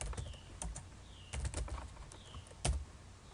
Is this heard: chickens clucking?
no